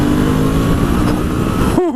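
A Honda NC 750 motorcycle engine, no longer limited to 6,000 RPM, revs up close and loud in a dense rising growl that cuts off abruptly at the end.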